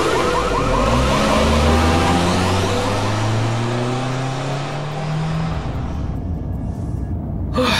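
In Resident Evil 6 a car engine roars and revs up with rising gear sweeps as the vehicle drives off, loud and close, easing away toward the end, with a car alarm wailing in the mix.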